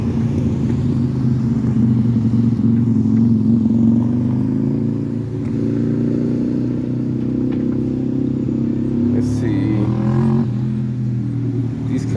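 Car traffic crawls through congestion at Jackson Square, a loud steady rumble of idling and slowly moving engines with occasional revving up close.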